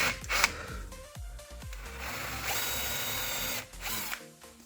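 A power drill boring 5 mm holes for a cabinet hinge whirs in short bursts with clicks and thumps between, then runs steadily for a couple of seconds before stopping.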